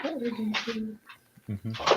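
A pet dog, a female, whines and yelps in short harmonic bursts close by, mixed in with people talking.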